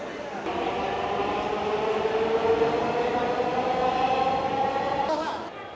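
A Dhaka metro train pulls into Agargaon station with a rising, steady electric whine over a broad rumbling roar, loud and close, fading at the end.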